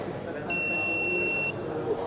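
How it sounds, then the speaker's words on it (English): A camera device at a trade show booth gives a single steady electronic beep lasting about a second before capturing an image, over a murmur of background chatter. "After beep, it captures the image."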